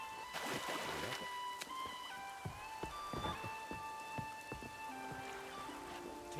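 Rain falling in The Witcher 3, a constant patter of drops on surfaces near a boat by the water, steady throughout, with soft music tones and occasional sharper splashes mixed in.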